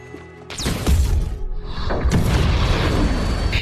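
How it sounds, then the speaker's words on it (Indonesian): A homemade bomb explodes in a film scene: a heavy blast hits suddenly, a second booming burst follows about a second and a half later, and loud rumbling debris and roar continue through to the end. "Micol membuat sebuah bom yang ia buat dan berhasil membunuh salah satu anak buahnya, Teddy."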